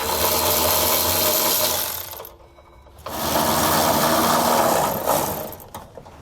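A power tool with a 13mm socket spins off bolts on a 2020 Ford truck while fitting air helper springs, a loud continuous mechanical whir that stops briefly and then resumes before trailing off.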